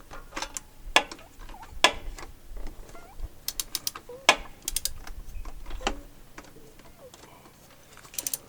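A 3/8 ratchet clicks in short uneven runs while working on an A/C compressor bolt of a 2006 Jeep TJ, sharp close ticks with scattered clanks and pauses between strokes.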